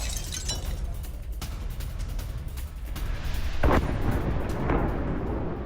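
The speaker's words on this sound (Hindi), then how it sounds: "मिसाइल लॉन्चिंग टनल पर आईडीएफ का अटैक हुआ है।" Explosions from an IDF strike on a Hezbollah missile tunnel in Lebanon, a distant rolling rumble with a heavier boom partway through, alone without talk.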